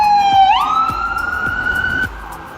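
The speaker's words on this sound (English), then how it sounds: "2 ambulances, a police car." Sirens from two ambulances and a police car sound loud and near, one tone sweeping up and holding a sustained wail before cutting off, with traffic noise underneath.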